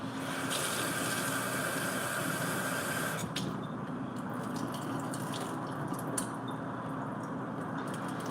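Rice is rinsed under running water in a home kitchen, a steady hissing splash that turns wetter and more broken partway through, with small drips and squishes, close and continuous.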